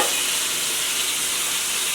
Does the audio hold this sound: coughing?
no